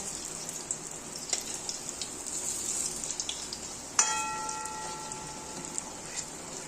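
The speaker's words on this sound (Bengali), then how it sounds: "আমি এখন বড়াগুলোকে উল্টে দিচ্ছি আর একটা সাইড ভাজা হওয়ার জন্য" Bottle gourd kofta fritters fry in oil on a low flame, a steady soft crackle and hiss running throughout with a sharper clatter partway as they are turned, no talking.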